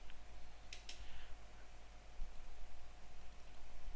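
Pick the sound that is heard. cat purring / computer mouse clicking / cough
computer mouse clicking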